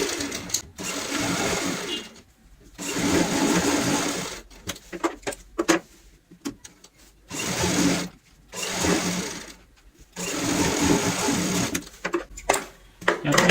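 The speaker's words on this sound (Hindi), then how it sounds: "हर निशान के ऊपर हमें सिलाई लगानी होगी" A sewing machine stitches lines across a cushion cover in bursts of steady whirring, each a second or two long, separated by short pauses, close and fairly loud.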